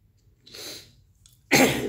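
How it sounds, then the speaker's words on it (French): A person clears their throat in two short, rough, breathy bursts, the second louder and harsher, close to the microphone with no speech. "Quand le temps est humide comme ça, j'ai souvent tendance à me racler la gorge."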